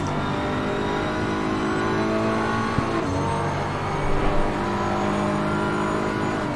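Race car engine in the sim racing game Assetto Corsa Competizione, a steady loud drone with layered harmonics while diving inside a Porsche into a left-hand corner, with a brief revving swell near the end and no talk.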